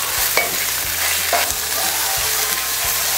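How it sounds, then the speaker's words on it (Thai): Northern Thai chili paste (nam prik ong) sizzles in a pan over low heat while a utensil scrapes and stirs it in regular strokes, close and steady with a constant frying hiss. "แล้วก็ผัดน้ำพริกก่อนเนาะผัดน้ำพริกให้หอม"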